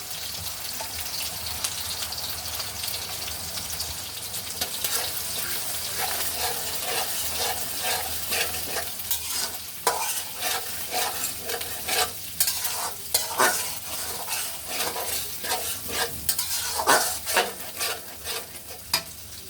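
Eggs frying in a pan for vegetable pasta, stirred with a utensil, give a steady close sizzle with frequent scraping clicks that grow busier toward the end, with no talking.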